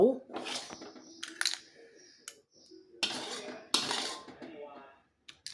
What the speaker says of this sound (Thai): ตักใส่จานพร้อมเสิร์ฟนะครับ